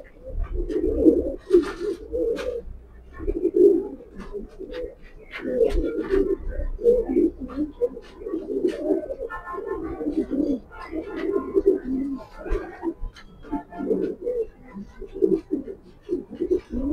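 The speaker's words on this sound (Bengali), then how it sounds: "লাল চোখের কবুতর।" Red-eyed pigeons coo in repeated low, throaty bursts throughout, close by, with occasional chirps and faint talking in the background.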